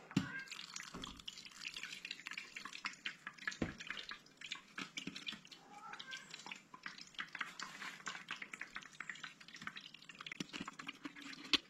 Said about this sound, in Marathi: सोय नाही आमकां बरी गाळून घेवंक जाय, सो इल्लेशें उदक ऍड करूया हांगसर आमी आतां.